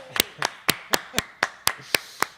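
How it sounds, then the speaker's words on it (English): A small audience claps steadily after a live band performance, about ten crisp, evenly spaced claps, close and moderately loud. "We've got double the applause now."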